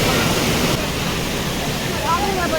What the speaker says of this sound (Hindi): यहाँ से आगे जाके ये पानी ओवरफ्लो हो रहा है